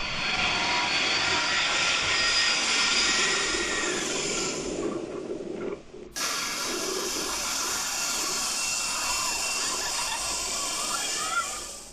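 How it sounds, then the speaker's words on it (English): Jet airliner taking off over Maho Beach, St. Martin, a loud broad roar of engine thrust sustained for the whole span, with a brief dip partway through before the roar resumes. "Everyone was excited to see the plane take off"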